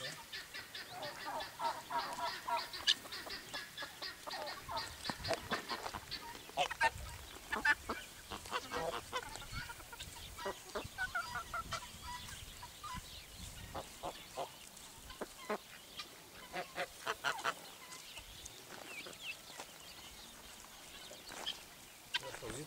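Flock of geese honking at a rural pond: continuous overlapping nasal honks and cackles at close to moderate distance, steady throughout with a few louder peaks, and faint talk in the background.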